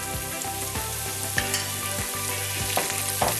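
Sesame seeds and cashews frying in hot oil in a pan for batata poha, a steady loud sizzle and crackle with a few sharp pops and spatula scrapes, no voices.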